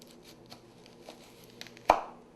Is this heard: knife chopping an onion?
yes